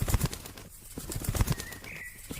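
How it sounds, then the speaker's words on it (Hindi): Cartoon sound effect of a small bird flapping its wings in flight, rapid soft fluttering beats in short bursts with a faint whistling tone, set in an animated Hindi children's story about little birds. "थोड़ा और उड़ने के बाद टूनी चिड़िया के पास पहुँच जाती है"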